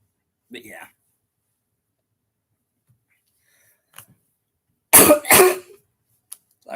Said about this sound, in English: I am a little bit sick right now, so I'm coughing.